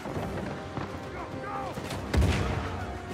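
A grenade goes off in Uncharted 4: A Thief's End with a single heavy boom and rumbling tail partway through, over a bed of in-game gunfire and combat noise.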